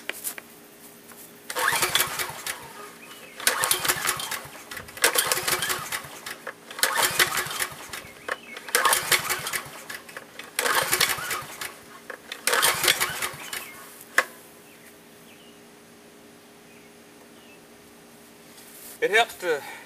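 Small generator engine being pull-started with the choke on, loud repeated recoil pulls in a rough rhythm, each a short sputtering burst, about seven tries before quiet.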